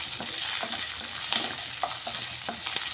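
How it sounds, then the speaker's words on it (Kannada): Spinach fries in a spoonful of oil in a pan, a steady soft sizzle with occasional stirring scrapes and taps, close and fairly quiet. "ಒಂದು ಸ್ಪೂನ್ ಎಣ್ಣೆ ಹಾಕಿದ್ದಾದಮೇಲೆ ಇದನ್ನು ಫ್ರೈ ಮಾಡ್ಕೋಬೇಕು"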